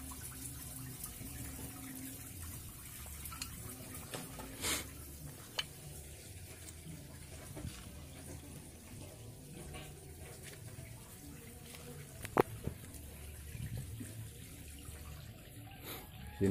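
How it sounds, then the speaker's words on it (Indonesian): Water draining steadily from a gourami fish pond, a continuous rushing, gurgling flow with a few faint drips and splashes, outdoors and moderately loud, with no voices. "menguras empang, kolam,"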